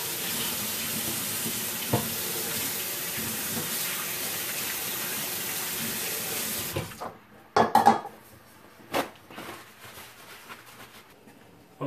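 Running tap water at a kitchen sink during washing up, a steady close rush that cuts off after several seconds, followed by a few wet clatters and dish knocks in the quieter sink.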